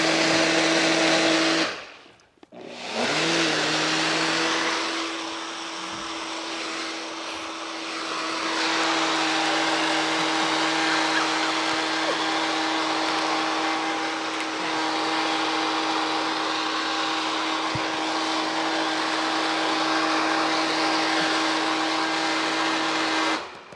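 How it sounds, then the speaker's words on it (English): A kitchen blender whirs steadily and loudly for about twenty seconds after a brief start, its motor holding an even drone throughout with no voices. "If you use your blender as much as I do, you gotta clean the connection points."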